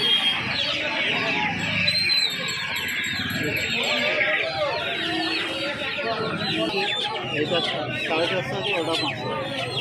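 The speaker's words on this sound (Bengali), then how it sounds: "দেখতে পাচ্ছ প্রচুর খাঁচায় খাঁচায় পুরো একদম ভর্তি ভর্তি রয়েছে বাচ্চা" Chickens and chicks packed in cages at a busy poultry market cluck and cheep continuously, with a crowd chattering all around them.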